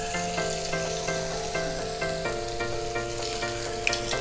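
Marinated chicken pieces fry in hot refined oil with a steady, close, even sizzle that crackles lightly and continues without pause.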